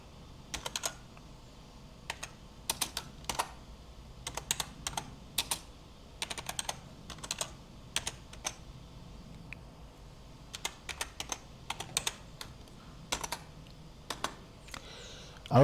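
Typing a command into Windows PowerShell on a laptop keyboard: irregular bursts of crisp, close key clicks with short pauses between runs, no voices.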